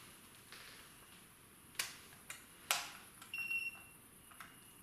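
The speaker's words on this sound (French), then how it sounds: "vous entendez des bips, vous inquiétez pas, c'est mon thermomètre qui se met en route régulièrement." A few short, faint electronic beeps from a laser thermometer powering on over quiet room hiss, followed by a brief high-pitched tone.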